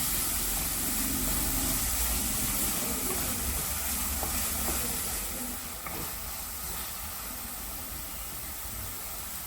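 Tomatoes with salt fry in a pan for boiled egg bhurji, a continuous broad hiss of frying throughout that eases slightly in the second half, with no voices.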